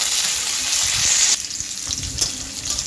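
Pieces of green mango dropped into hot oil in a home kitchen, a steady broadband sizzle that stays loud, then eases a little as the pieces settle, with faint stirring clinks.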